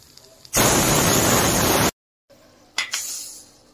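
A pressure cooker whistles while desi-style chicken cooks: a loud, steady hissing burst of steam lasts over a second, cuts off abruptly, and after a short silence a fainter hiss and rattle follow.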